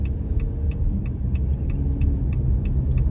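Heavy rush-hour highway traffic in Canada hums steadily from inside a car, a low rolling rumble with a regular ticking turn signal clicking over it.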